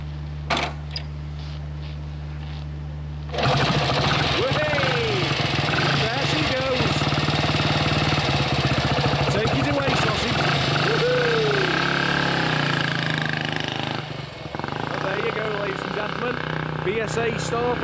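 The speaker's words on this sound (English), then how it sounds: "let's have a listen at that engine running" A 1967 BSA Barracuda 250 motorcycle engine starts up and runs nearby with a steady, buzzing idle after a short quiet stretch. A person talks over the engine while it runs.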